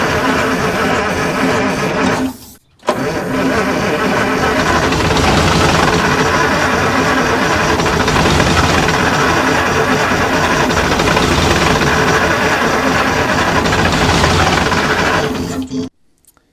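A supercharged V8 two-stroke Detroit Diesel in a long-parked Kenworth truck cranks over on the starter without firing, giving a loud, steady whirring churn that stops briefly and then runs on until it cuts off.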